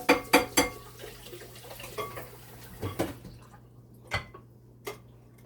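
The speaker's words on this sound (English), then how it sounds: "Wash off the spoon," Metal spoon clinking against a pot while being rinsed in water during fufu preparation, a few sharp close knocks early then scattered faint clinks over a quiet watery background.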